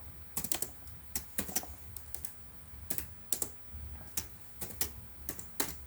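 Someone types code on a computer keyboard, quiet irregular key clicks in quick clusters and single taps over low room hum.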